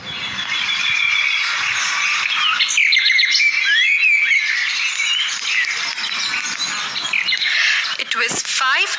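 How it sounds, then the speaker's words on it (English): A rooster crowing within a narrated children's story, loud bird calls with squawking, squealing tones stretched across the clip alongside a speaking voice. "It was 5 in the morning when everyone was fast asleep. The cock was crowing."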